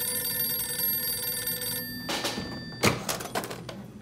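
A telephone bell rings steadily for a couple of seconds, then breaks off and is followed by sharp clattering handling sounds, all fairly quiet.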